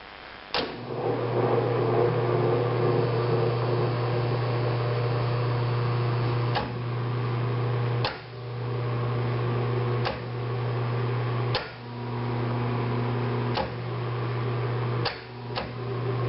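A Thunderbolt siren running in its fast wheel test, a loud steady mechanical drone with a strong low hum, interrupted every couple of seconds by sharp clunks and brief dips.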